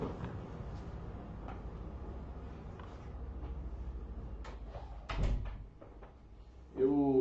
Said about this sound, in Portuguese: Deixa eu só fechar minha porta aqui